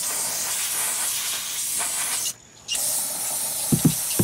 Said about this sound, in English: I got a little bit of brake clean left. Try to spray out what I